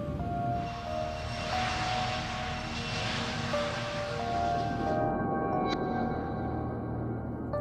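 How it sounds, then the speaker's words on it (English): A British Airways airliner climbs out after takeoff from Birmingham, a loud sustained engine roar with broad rushing noise that holds steady and then drops in its upper hiss near the end, with no voices. "British Airways Flight 5390 is leaving Birmingham, England for Spain."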